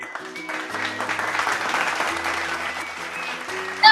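Crowd at a school closing ceremony applauds award-winning students, a continuous wash of clapping that swells and stays steady under a soft sustained music bed.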